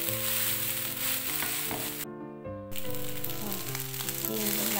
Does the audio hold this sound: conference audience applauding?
no